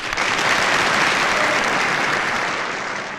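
Loud, dense audience applause fills a charity evening hall, sustained and steady before easing slightly toward the end, with no talk over it.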